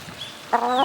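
A backyard chicken gives a single short cluck, close and clear over a quiet outdoor background.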